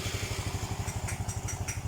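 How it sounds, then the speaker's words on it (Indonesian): Honda Supra Fi motorcycle engine running with a faulty O2 sensor, a steady rapid low thumping idle with a slightly uneven, sputtering beat, close and continuous. "Oke, coba kita nyalakan ini motor."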